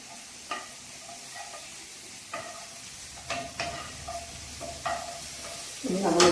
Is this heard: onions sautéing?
yes